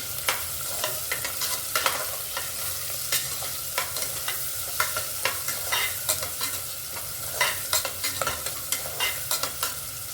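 Green chilies fry in a pan with a constant close sizzle, while a spoon stirs them in quick, repeated scraping strokes that continue throughout.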